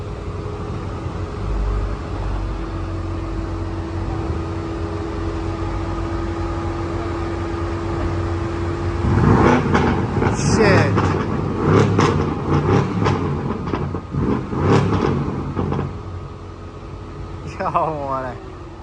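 A Dodge car's engine revs hard with a rumbling exhaust, a loud run of repeated bursts rising over a steady idle drone, with people talking around it.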